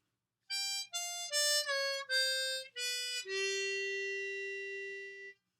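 A harmonica plays a short ascending blues scale of single notes, the 4-hole draw note bending down in pitch, ending on a long sustained tone, clear and close.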